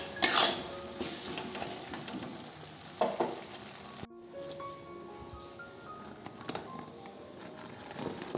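Spice paste sizzling and frying in a pan at home for an aubergine and fritter curry, with a steady hiss, occasional stirring scrapes and utensil clinks against the pot, moderately close and without talk.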